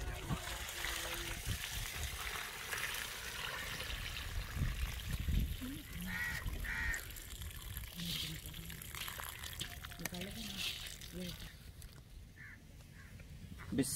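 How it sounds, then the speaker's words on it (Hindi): Water in a large covered pot heats toward a boil for goat rice in an outdoor village kitchen, a steady bubbling, trickling wash with a voice speaking at times over it. "पानी में उबाल आने देंगे।"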